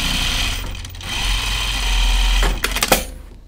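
Close, loud sewing machine runs in a steady mechanical whir while stitching a jacket seam, then slows and stops with a few clicks and clunks.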